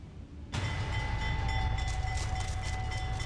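A train rolls through a rail yard near the border: a loud, steady rumble starts suddenly after a short quiet moment, with a faint high metallic squeal above it.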